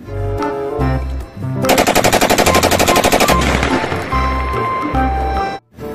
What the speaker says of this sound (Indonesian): Yang ini tembakan laras panjang juga M4.